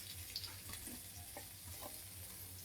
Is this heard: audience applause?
no